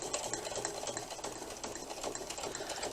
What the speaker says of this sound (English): because I'm using white cotton, I'm going to have to be really careful how I sew it